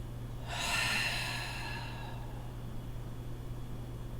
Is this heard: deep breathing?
yes